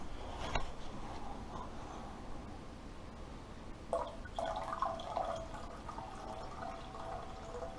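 Motor oil poured into a measuring cup while shortening an oil pan, a low steady trickle with faint dripping and a few brighter splashy moments toward the middle, fairly quiet throughout.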